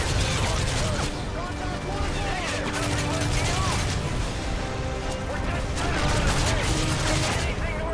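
Sustained gunfire and explosions in a Modern Warfare 3 firefight on a bridge in Paris, a dense continuous clatter of shots and impacts with someone talking over it.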